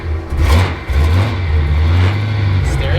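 An old car's engine runs roughly and loudly close by, with a deep uneven drone that swells and dips throughout, heard from inside the car.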